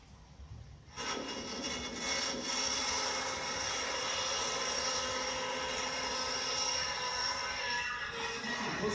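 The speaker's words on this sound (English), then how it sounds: "That's the world's very first robotic helicopter." A small robotic model helicopter flying autonomously under reinforcement learning control gives a steady, loud buzzing whine with bright harmonics. It starts abruptly after a brief quiet moment and then holds constant, with no talk over it.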